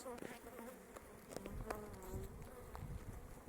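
Honey bees swarm and buzz continuously at an open beehive during brood season, a dense, steady drone of many wings close by, with a few individual bees whining past louder now and then.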